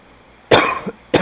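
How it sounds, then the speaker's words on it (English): Two sharp, loud coughs from a person nearby, a pause between them, the second cut short; quiet room otherwise. "still have a little bit of a cough"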